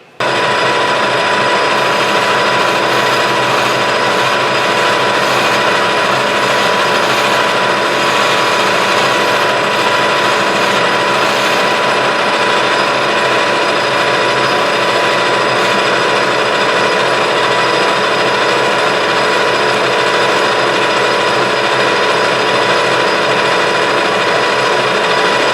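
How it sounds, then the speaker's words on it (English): A Clausing 6900 series lathe turns a leadscrew at 870 RPM with a DMMG insert, giving a loud, steady mechanical whir and hum with a constant ratcheting texture that runs unbroken from start to finish, with no voices. "We're turning 870 RPM here."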